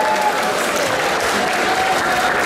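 A crowd applauds at the Kortowiada student festival in Olsztyn, a dense, continuous wash of clapping at steady loudness for a couple of seconds, with no clear speech on top.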